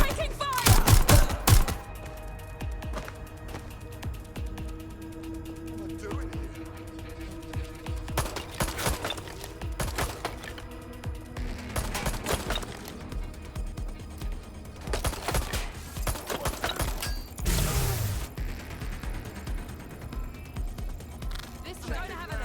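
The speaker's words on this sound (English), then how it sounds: "That was a gun!" Gunfire in the video game Watch Dogs Legion: sharp bursts of shots crack out, heaviest at the start and returning in scattered volleys, loud and close, mixed with in-game voices talking over the fight.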